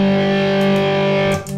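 An electric guitar played through a heavy distortion effect rings out loud and sustained, holding a thick chord before a quick pick scrape and muted re-strike near the end, with no voices.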